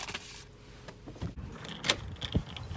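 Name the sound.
bunch of new house keys jangling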